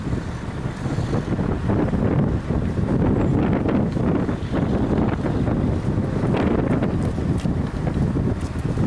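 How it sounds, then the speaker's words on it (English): Strong wind buffets the microphone at an Icelandic fjord near Akureyri, a loud, continuous roar with gusting rumble lasting throughout and no talk. "It was very windy"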